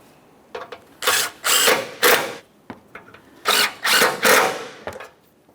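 A power tool snugs two 10mm bolts on an active grille shutter of a 2015-2019 Subaru Outback, giving several loud whirring bursts in two groups, close up, with brief pauses between.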